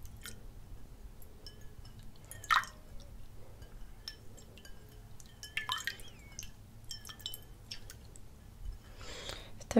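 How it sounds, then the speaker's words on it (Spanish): Hands being washed with water in a quiet room: sparse close drips, small splashes and wet squishing rubs with gaps between them, soft and intimate. "voy a lavar las manos tantito"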